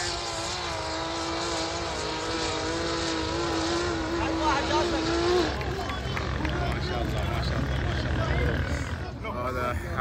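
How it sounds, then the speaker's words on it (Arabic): Race cars roaring around a motor racing circuit at the Liwa festival, a continuous loud engine drone with a rising, shifting whine, over dense crowd and outdoor noise. "حلبة السيارات"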